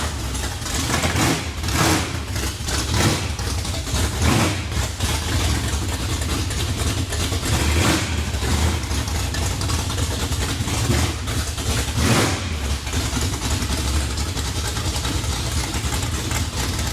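A 1957 Chevy V8 with fuel in the carburetor fires up and settles into a steady, loud idle that runs continuously, with periodic louder surges and rough pulses layered over the engine throughout.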